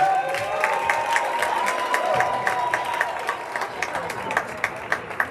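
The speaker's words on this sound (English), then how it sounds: "please give a big round of applause to Coach Lindsay" Crowd applause for a coach at a school winter sports awards ceremony, steady clapping with distinct sharp claps and cheers in a large hall, voices murmuring underneath.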